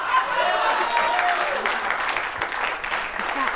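Audience clapping during a live show, a moderate patter of several hands that swells and thins over a few seconds with faint background activity.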